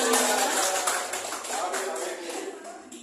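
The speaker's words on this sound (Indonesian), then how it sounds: "Tepuk tangan untuk kita semua." A room of teachers at a workshop clapping together, a dense patter of hand claps that starts strong and slowly thins and fades, with faint voices mixed in.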